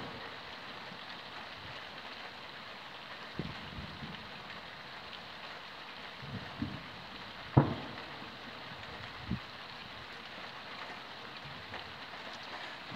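Steady rain patters down outdoors during a thunderstorm in Drôme, France, with a few heavier, louder drops smacking a surface now and then.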